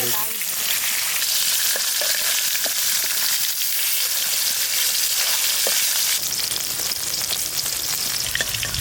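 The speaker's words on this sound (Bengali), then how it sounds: "অল্প ভাজা করে নিলাম" Pieces of hilsa fish fry steadily in hot oil, giving a loud, dense, continuous sizzle with faint crackles and occasional stirring clicks throughout.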